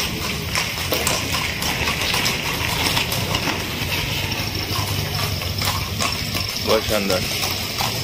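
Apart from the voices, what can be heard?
white horse dancing, hooves clip-clopping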